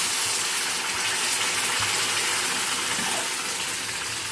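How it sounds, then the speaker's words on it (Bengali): Water is poured into cooked-down masala in a pan for a potato and paneer curry, a steady, loud, continuous gushing rush lasting the whole few seconds. "জল অ্যাড করে দেবো।"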